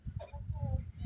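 Aseel hen with her chicks clucking softly close by, short low clucks and faint peeps repeating in an uneven rhythm across a brief moment with no talk.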